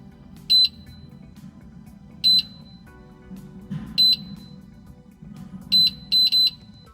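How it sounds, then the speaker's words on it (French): Short high electronic beeps from a Quaestor electronic safe sound at irregular intervals, a few single chirps and a quick pair near the end, over a low background hum. "Un petit bip sonore se fait entendre, c'est bon signe"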